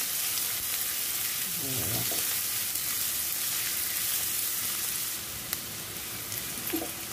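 Onion and chopped curry leaves sauté in a hot oiled pan for a banana flower vegetable dish, a steady broad sizzle with occasional spatula stirs and clinks, close and continuous with no talk.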